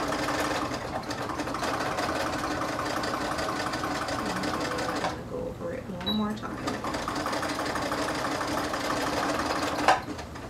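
A sewing machine runs steadily while stitching elastic onto a tulle skirt, a continuous mechanical hum with a brief pause midway before resuming, heard under a talking voice.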